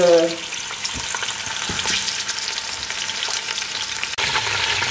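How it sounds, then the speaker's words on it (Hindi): Mutton pieces fry in hot oil in a pan for a dry fruit qorma, giving a loud, steady, crackling sizzle with faint stirring scrapes. There is a brief dip near the end before the sizzle resumes. "पहले मटन को मैं ऑयल में फ्राई कर लूंगी"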